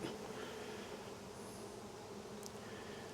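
Honey bees buzz around a hive frame in a faint, steady hum with a few closer individual bees briefly passing by, and no one speaking.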